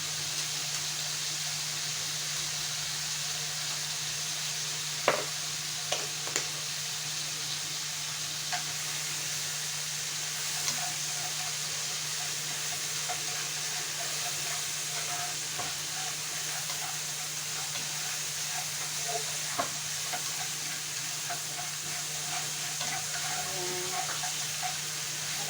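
Minced pork stirred and frying in a pan, giving a steady soft sizzle with occasional faint scrapes and clicks of a utensil, fairly quiet throughout.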